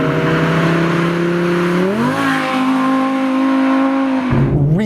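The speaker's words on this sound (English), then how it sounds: "Really fast shifts in this car." Audi R8 engine pulls hard under acceleration, loud and close, its pitch climbing then dropping sharply at quick gear shifts before rising again, with a steady harmonic drone throughout.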